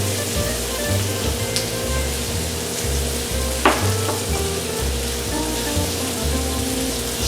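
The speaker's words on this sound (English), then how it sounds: "I'm going to go ahead and add in my spam cubes." Spam cubes frying in a pan, with a steady, close sizzle and crackle throughout and a single sharp clink partway through.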